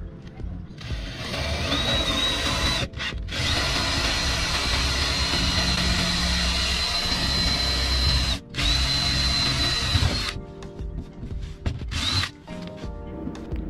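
A power drill bores holes into a boat moored in a marina while an LED name sign is mounted on its stern. The motor whines loudly and close up in long steady runs, with a few short pauses and restarts.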